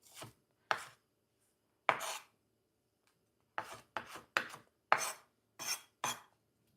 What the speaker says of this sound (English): I'm going to cut these down as well. A little rough chop.